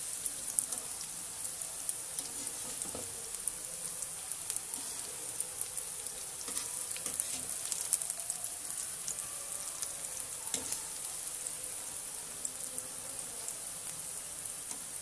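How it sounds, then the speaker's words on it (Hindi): Cauliflower pakoras coated in gram flour batter deep frying in hot oil, a quiet, steady crackling sizzle with scattered small pops throughout and no voices. "हल्की गोल्डन होने तक हमें इन्हें फ्राई करना है।"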